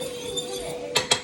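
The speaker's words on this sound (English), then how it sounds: "I'm stirring that up in the pot" Stirring mini portobello mushrooms in a pot gives two sharp clinks of a utensil against the pot near the end, over a low steady kitchen background.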